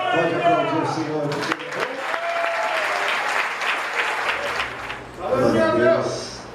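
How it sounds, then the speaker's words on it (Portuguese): A church congregation breaks into sustained applause, clapping steadily for several seconds, with a voice speaking just before and again as it fades. "Pode aplaudir o Senhor."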